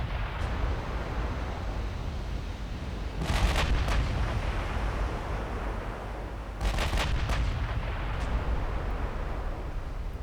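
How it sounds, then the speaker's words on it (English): Heavy 16-inch battleship guns boom in the naval game Ultimate Admiral Dreadnoughts, two loud salvos a few seconds apart over a constant roar of sea and wind, each with a sharp crack and a rolling tail. "I like the sound of the 16-inch guns in this game."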